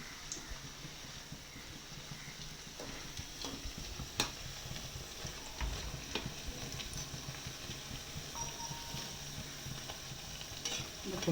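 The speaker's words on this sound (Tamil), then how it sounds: "இந்த சலசலப்பு இன்னும் அடங்கலை" Karpooravalli bajji fry in oil with a soft, steady bubbling sizzle, faint and continuous, punctuated by a few light clicks and taps from utensils.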